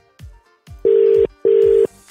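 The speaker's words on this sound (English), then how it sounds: "Still ringing." A call on a radio show keeps ringing, with two loud, steady tone bursts spaced evenly over rhythmic low thumps from background music.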